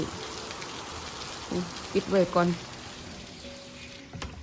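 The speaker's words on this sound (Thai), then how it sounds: "ตอนนี้ยังมาเลยเจ็ดโมงดิฝนตกขนาดนี้ พายุเข่าอีกแล้ว ตกแรงด้วย" Heavy rain pouring down at a construction site during a storm, a steady close hiss of falling water while a voice speaks briefly over it.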